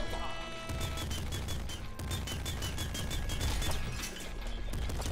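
Rapid machine gun fire rattles almost continuously in the top-down shooter game Nuclear Throne on PC, its bursts packed into a dense loud barrage over game music.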